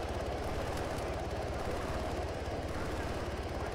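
A helicopter in the PC game ARMA 3 flies during an AI air assault, giving a steady, loud rotor chop with a continuous engine rumble for the whole stretch, and no talk over it.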